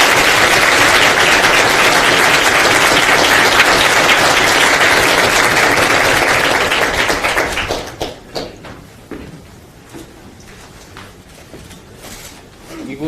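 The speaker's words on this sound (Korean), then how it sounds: "우리 큰 박수로" Big, dense applause from a seated audience welcoming a guest speaker to a lecture, loud and steady for several seconds before thinning into scattered claps and tailing off.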